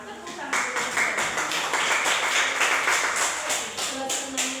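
A sixth-grade class claps together in the classroom, a dense run of many hands clapping close by with rhythmic pulses, while voices carry faintly underneath.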